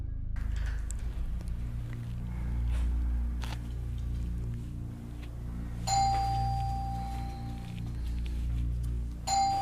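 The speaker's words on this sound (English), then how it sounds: "There's doorbell." A two-tone doorbell chimes out clearly over a low, steady background hum, ringing once and then starting again at the very end, with no voices.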